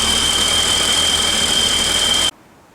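A Mazda classic car's engine runs loud and close in a garage of old cars in Japan, a steady dense roar with a high whine, then it cuts off abruptly near the end.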